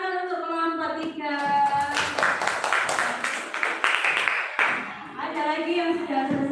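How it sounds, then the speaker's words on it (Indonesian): Classroom applause for group 3 bursts into a few seconds of dense, close hand-clapping, framed by children's and adults' voices talking before and after. "Tepuk tangan untuk kelompok 3."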